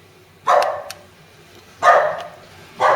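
A dog barking indoors in a small space warmed by a diesel heater on a cold day: three sharp, close barks spaced about a second apart, loud against a quiet background.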